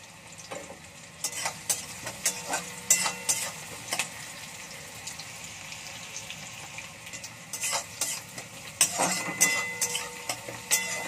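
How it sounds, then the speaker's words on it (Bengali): Oil crackles and spatters in a pan while chole masala fries, with scattered sharp pops and the scrape of stirring over a steady low sizzle, close by and with no voices. "এই তেলটা ছেটকালে না আমার খুব ভয় লাগে, আর আমার তেল ছেটকাতেই থাকে"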